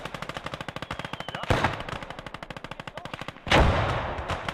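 A 2cm autocannon fires in the WWII game Gates of Hell: Ostfront, a long rapid string of evenly spaced loud shots, broken by two heavy explosive booms that ring out over the steady rhythm.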